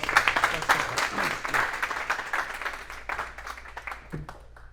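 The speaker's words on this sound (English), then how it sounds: "Please give him a warm round of applause" Audience applause welcoming a speaker at a live event, moderately loud and fairly close, gradually thinning out with scattered claps at the end.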